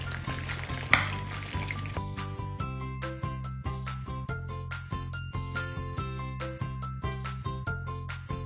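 Siomai deep-fry in coconut oil with a steady sizzle beneath rhythmic background music that carries through the whole stretch.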